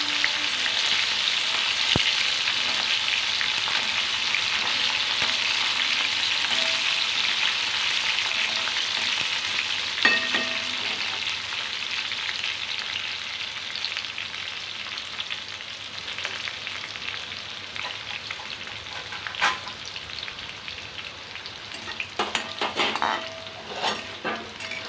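Soybean chunks frying in hot oil, a steady dense sizzle throughout with occasional clinks of a utensil stirring in the pan; close and alone, no talking.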